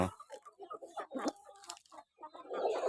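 Chickens being fed in the evening make quick, close bursts of clucking and chattering calls in an irregular run of short notes.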